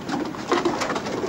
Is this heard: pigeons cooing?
yes